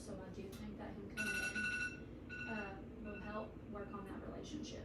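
A phone rings in short repeating electronic bursts in an indoor room, sounding in the background while a person keeps talking over it.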